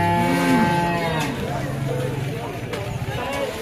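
Cattle at a livestock market in Rajbari low out in a loud, drawn moo near the start, followed by a busy crowd murmur and scattered animal noises in the background.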